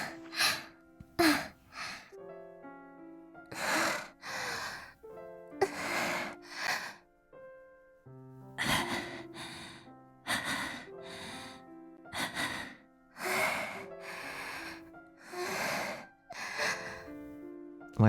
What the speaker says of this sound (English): The only sound in the dark room was their panting.